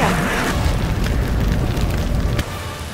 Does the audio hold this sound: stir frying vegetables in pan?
no